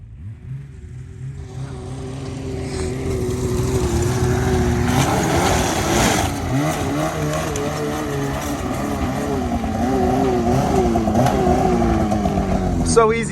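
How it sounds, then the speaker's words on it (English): Polaris snowmobile engine running and revving steadily as it is ridden up onto a Duradeck Platinum sled deck, a sustained droning roar that swells after the first seconds and holds, with voices talking over it. "I'm having him ride the Polaris up."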